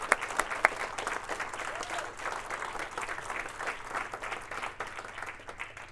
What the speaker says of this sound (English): A big round of applause for all of our winners.